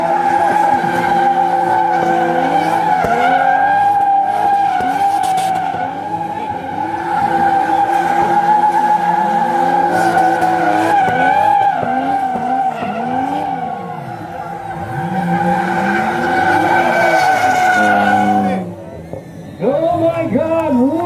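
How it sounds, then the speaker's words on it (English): Drift cars, including a BMW, sliding at a drift festival in Laitkor, Shillong, with loud sustained engine roar and wavering tire squeal throughout, briefly dipping near the end before resuming. "Oh my God, what an action by the two drift cars."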